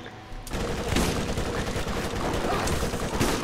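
Sustained rapid submachine gun fire in the video game Borderlands, a dense, loud, continuous burst of shots running through the whole stretch with faint gameplay noise underneath.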